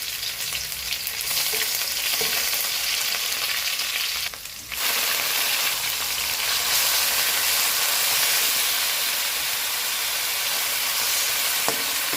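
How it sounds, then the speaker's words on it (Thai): Garlic frying in vegetable oil in a pan, a steady close sizzling hiss that runs throughout with a brief dip near the middle and occasional stirring clicks, no voices. "เราก็จะใช้น้ำมันพืช นะฮะใส่ลงไป แล้วก็เอากระเทียมลงไปเจียว"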